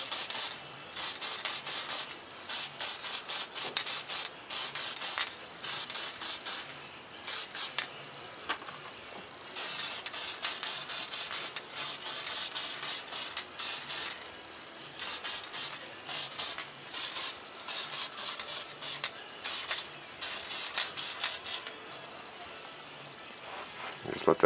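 Testors spray paint can hissing in repeated short bursts as a light coat goes onto a small model F-117 stealth fighter jet, steady close spraying with brief pauses between passes.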